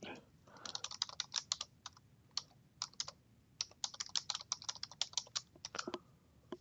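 Rapid, irregular clicks of keys on a computer keyboard as a password is typed, close and fairly quiet, in bursts with brief pauses.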